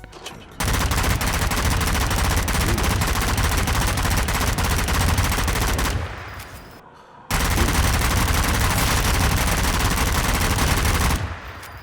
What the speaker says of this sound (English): This is an electric weapon, so your electric mod go all the way to level 3, or you can stop at level 2 and get a rapid fire mod